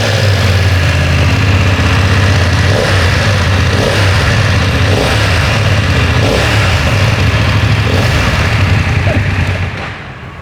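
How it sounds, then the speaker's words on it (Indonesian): A BMW F 900 R motorcycle engine idles steadily and close, a deep throbbing low rumble with a busy mechanical ticking on top, holding an even level throughout before easing off at the very end. "Sekarang kita nyalakan mesinnya."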